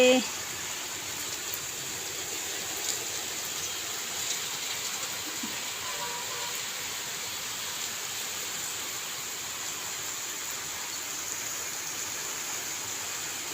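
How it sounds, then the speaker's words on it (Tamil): Steady rain falling in Attur, a constant wash of hiss that holds the same level throughout without pause, with no distinct drops standing out. "மழை மட்டும் பெய்யுது இப்போ என்ன"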